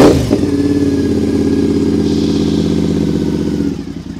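A Triumph Bonneville Scrambler with a repacked exhaust idles with a steady, low, lumpy thrum, loud and close, fading slightly at the end.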